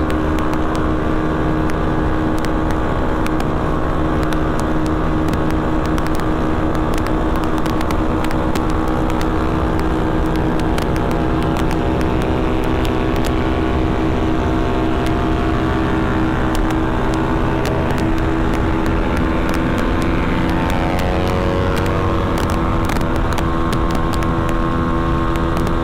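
A motorcycle fitted with a 48-tooth rear gear revs hard and continuously, its loud buzzing engine drone holding for nearly half a minute while the pitch drifts up and down.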